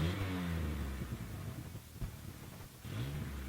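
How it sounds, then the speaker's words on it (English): A high-mileage Ford Ranger engine with an exhaust leak revs at moderate volume, its rough mid-range drone rising and falling and briefly easing before picking up again. "I think I have an exhaust leak."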